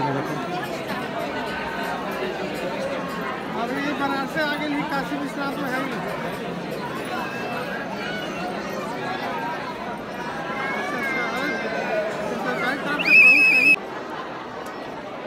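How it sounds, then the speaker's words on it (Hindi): Pilgrims crowd the lanes near Kashi Vishwanath temple in Varanasi after Maha Shivratri, a steady dense murmur of many voices close by, with a short sharper burst near the end. "काफ़ी लोग आ रहे हैं भीड़ भाड़"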